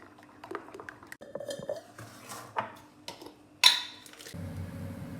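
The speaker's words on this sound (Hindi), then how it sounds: "पैन मैंने चूल्हे पे चढ़ा दिया।" A metal pan is set onto a stovetop burner, clattering among scattered kitchen clinks and soft liquid squishes before one sharp ringing metallic hit, followed by a low steady hiss; close and unaccompanied by speech.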